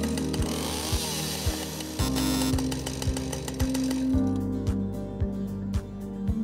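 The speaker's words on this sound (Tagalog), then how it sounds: "Ilapag sa lupa ang chainsaw, saka hilahin ang starter rope para paandarin ito." A chainsaw runs loud and close with a steady buzzing drone, with regular sharp clanks or pulses recurring throughout and the engine pitch shifting partway through.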